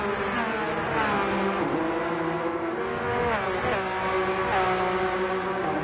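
Race car in Gran Turismo 2 driving hard: a steady, loud engine note rising and falling through gear changes and revs, heard alone with no talk.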